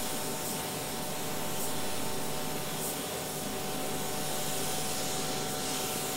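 A paint spray gun hisses steadily while laying down the final coats of base paint on a custom paint job, a continuous close and even spray with no breaks.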